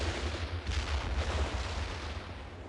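A machine gun fortification in a war strategy game keeps up dense, low, rumbling fire mixed with thudding battle noise, continuous and steady throughout with no talk.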